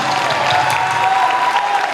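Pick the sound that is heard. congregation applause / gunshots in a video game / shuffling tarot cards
congregation applause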